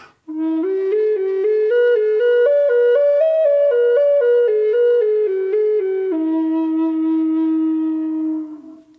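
A Native American flute plays a smooth, connected minor pentatonic line that steps up and then back down without breaks, ending on a long held low note that fades out. The sound is close and clear, and no one speaks.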